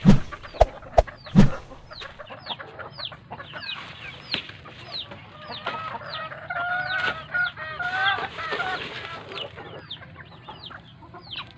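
Backyard chickens cluck and chatter in a busy overlapping flock, with a few loud near calls at the start and a rooster's crow, steady and close with no talk.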